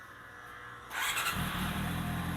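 A 1994 Honda CB400 four-cylinder motorcycle engine cranks and fires after a quiet second, then settles into a steady, smooth idle close to the listener, with no voices.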